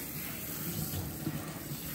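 Water runs steadily from a tap while a litter of American Bully puppies is rinsed off, a soft, continuous hiss with a faint low rumble.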